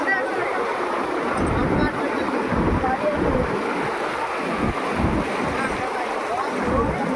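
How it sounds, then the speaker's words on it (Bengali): Floodwater rushes in a broad, constant wash, with wind buffeting the microphone and someone talking excitedly over the noise. "দেখো দেখো দেখো জলের অবস্থা দেখো বন্ধুরা, এই দেখো জল।"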